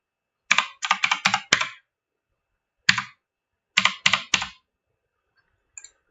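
Typing on a computer keyboard while entering a password, heard as a fast burst of crisp key clicks, a lone keystroke after a pause, then another short cluster, close and clear with no talking.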